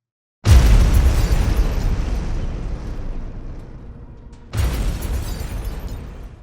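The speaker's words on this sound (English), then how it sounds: "This is obviously pre-placed explosions in the exterior structure of the building." Two loud booming blasts in 9/11 footage of the building: a sudden explosion that rumbles and slowly fades, then a second burst about four seconds later, with no talking.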